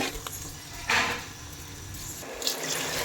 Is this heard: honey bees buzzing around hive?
no